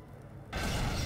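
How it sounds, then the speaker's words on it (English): Explosion in Half-Life 2 MMod gameplay: after half a second of low rumbling quiet, a loud broadband blast erupts and keeps roaring with debris-like crackle through the rest of the moment. "Oh, those explosions are nice."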